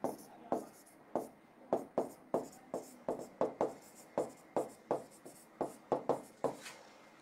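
A pen or chalk moves across a board during a chemistry lecture, heard as a rhythmic series of short scratchy strokes with brief pauses between them, close by and quiet with no talking.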